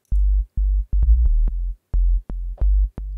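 A synth bass patch built in Vital and run through an analog-style filter with the cutoff lowered and the resonance turned down plays a sequence of short, deep, loud notes in a choppy rhythm, about eight hits with brief gaps between them.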